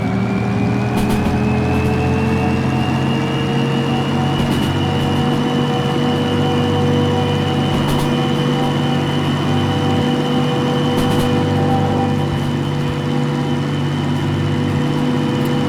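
A train locomotive in the video game Derail Valley picks up speed on a straight stretch of track: a steady, loud engine drone with rising tones that holds throughout, with no talking.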